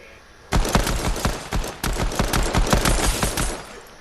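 A purple pistol in Fortnite fires a rapid burst of loud, close shots, about a dozen sharp cracks in quick uneven rhythm with one brief pause midway.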